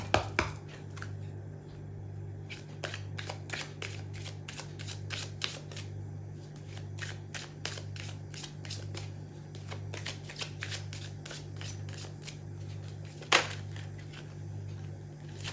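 Tarot cards are shuffled by hand, giving a long run of crisp, quick card flicks and snaps, some in fast clusters, over a steady low electrical hum, with no talking.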